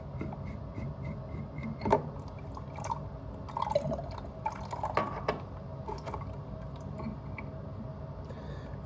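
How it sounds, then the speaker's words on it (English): Water drips from a leaky plumbing valve being repaired before a snowstorm, a controllable drip with irregular small drops and soft splashes close by against low background noise, no talking. "And then we come down to a controllable drip now."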